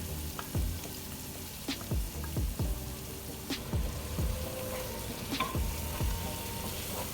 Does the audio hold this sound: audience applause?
no